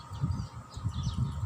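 Birds chirp faintly in a peaceful natural setting, thin calls rising and falling in the distance over a gentle low murmur.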